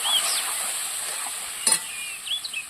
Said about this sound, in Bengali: এই যে তেলটা আছে এখানে আমি আগে থেকে ভিজিয়ে রাখা বাদাম বাটাটা দিয়ে দেবো